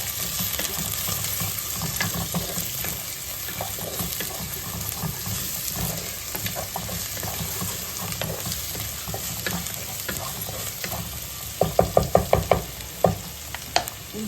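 Onions and clams stir-fried together in a pan for Mangalorean clam sukka, a loud, steady sizzle with a quick burst of spatula scrapes and clicks near the end.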